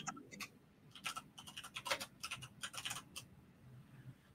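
Fast, uneven clatter of keys on a computer keyboard, bursts of close clicks with short pauses between them, fairly quiet and with no voices.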